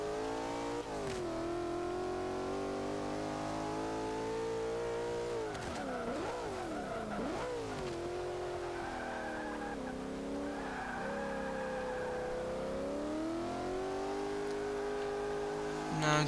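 A 2000 BMW Z8 sports car engine in Forza 5 revs and roars continuously, pitch rising and falling with shifts and tire squeals, loud and synthetic-sounding.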